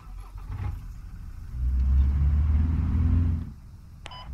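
Military vehicle in the game Squad pulling away, its engine rising into a loud, steady low rumble for a couple of seconds before dropping back, ending with a short electronic beep.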